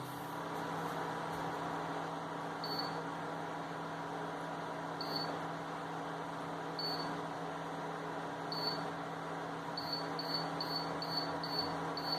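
An induction cooktop set to 700 watts, heating milk, gives off a steady electrical hum and hiss, with occasional faint high beeps toward the end.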